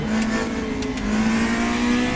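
A race car speeds across the track in the RaceRoom racing game, its engine holding a steady, close, loud tone with a slight rise in pitch throughout.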